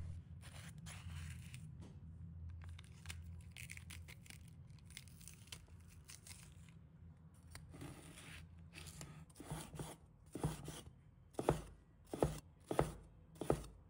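A knife chops a green chili pepper into small pieces on a board, quiet scraping at first, then a run of distinct, sharp chops near the end, with no talking.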